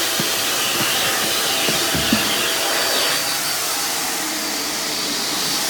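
A Hoover React Professional Pet Plus UH73220 upright vacuum runs steadily, a loud, constant whooshing roar with a few faint clicks early on and no speech.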